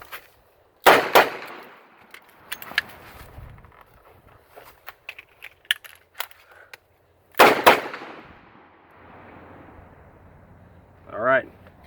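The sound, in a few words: revolver shots and speed reload with Safariland Comp 2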